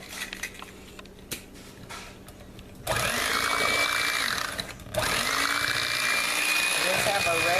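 An ordinary electric hand mixer beats eggs into pound cake batter, a loud steady motor whir starting abruptly partway through, briefly dipping, then running on continuously after a quieter stretch of kitchen noise.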